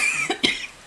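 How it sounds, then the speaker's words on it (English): Two short, sharp coughs close by, about a beat apart, from a person in a dusty room, with faint hiss between them and no talking. "Excuse me, coughing, it's so dusty here."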